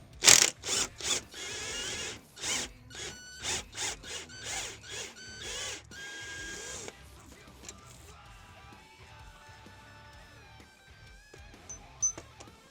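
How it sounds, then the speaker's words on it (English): A Matco ratchet cranks a 15mm bolt off a Focus ST engine mount, giving close, rapid bursts of sharp ratcheting clicks in uneven strokes, then fading into quieter, scattered mechanical ticks. "let's pull this bolt off. Again, 15mm. Use the Matco this whole time."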